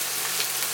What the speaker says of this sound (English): Fry our onions